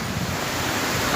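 Strong wind roars over a rice field during a storm, a dense, loud, continuous rushing that buffets the microphone, with no talk heard.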